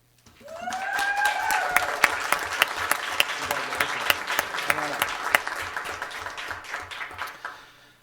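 A school governing board meeting audience bursts into sustained, dense applause for an honored community volunteer, crisp claps holding steady for several seconds before tapering off, with a brief voice near the start.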